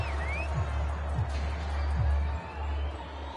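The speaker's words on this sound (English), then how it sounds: "This home crowd, they're happy with that call." A home football stadium crowd cheers and roars after a referee's flag on fourth down, a broad steady swell of distant voices under low rumble.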